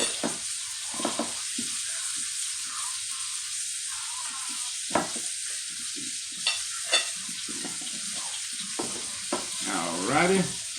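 Potatoes and onions frying in a pan, with a steady close sizzle running throughout and a few clinks of stirring. A short voice is heard near the end.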